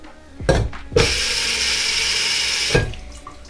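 Running water pours steadily for about two seconds as a kitchen gadget rinses a milk frother pitcher, with a sharp clunk as the flow starts and another as it shuts off.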